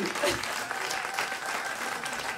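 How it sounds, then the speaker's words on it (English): Applause from a live audience after a song, a steady burst of clapping that carries on throughout the short moment. "Another round of applause for Diane and everyone here."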